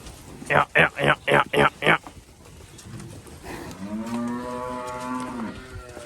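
Five loud, evenly spaced moos from a buffalo come in quick succession, then a longer, drawn-out bellow follows over background noise, as buffaloes are led out to graze.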